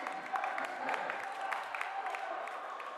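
A basketball crowd at a men's college game between Wilkes University and Keystone College claps and cheers, a steady, moderately distant wash of applause with scattered sharper claps throughout.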